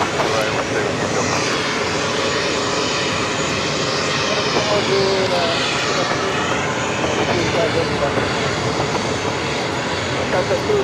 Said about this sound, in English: That Airbus A220 starting up.